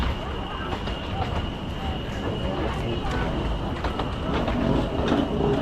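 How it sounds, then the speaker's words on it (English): Park train running through the jungle at Iguazú Falls, Argentina: steady rolling rumble with clickety-clack of wheels on track and a faint high squeal, fairly close, with voices mixed in. "this is a train that you can take around the park as well"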